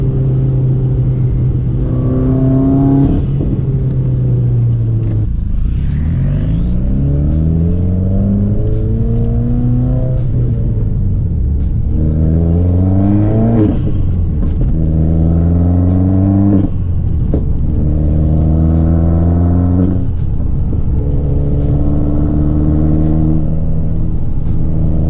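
A Subaru WRX making over 400 wheel horsepower accelerates hard through traffic in the rain, its loud engine rising again and again through repeated gear pulls, with brief dips at each shift.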